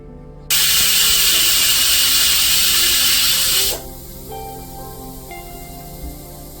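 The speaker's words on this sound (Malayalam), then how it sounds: "കുക്കർ അടച്ചു വെച്ച് ഒരു വിസിൽ അടിച്ചതിന് ശേഷം" A pressure cooker holding turkey biryani vents steam in one loud, close, steady hiss lasting about three seconds, then cuts off abruptly and leaves a faint background hum.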